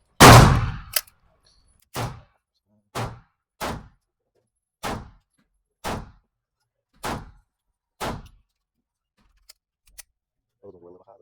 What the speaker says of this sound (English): We're going to do 5 shots to the left circle, 5 shots to the right circle, in between changing the mag out.